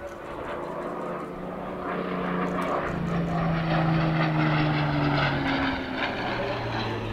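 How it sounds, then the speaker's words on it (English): A Spitfire Mark 5B propeller fighter flies past at an airshow, its engine a steady droning roar with tones that slowly bend in pitch as it passes, fairly loud and continuous throughout. "The first of three Spitfires next, and this one is a Mark 5B from the Historic Aircraft Collection based at Duxford"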